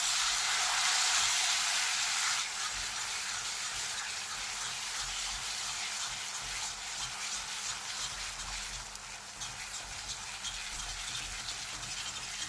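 Rice flour batter poured into a hot pan for pachamapodi puli upma, a steady broadband sizzle that starts loudest and then settles into a constant hiss for the rest of the time, with no voices.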